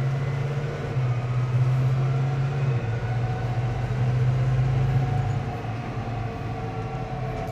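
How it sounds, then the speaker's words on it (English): A New Holland T6.175 tractor engine runs at about 2200 RPM through a gear change, a loud steady low drone with a strong hum whose pitch dips and recovers near the middle. "And now she's doing a gear change at 2200 RPM."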